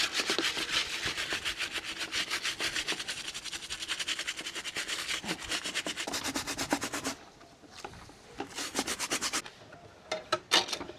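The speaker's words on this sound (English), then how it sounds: "So give it a good scrub." A silicone sluice dream mat is scrubbed by hand, giving a steady, rapid back-and-forth rasping rhythm up close, then shorter, sparser bursts of scrubbing toward the end.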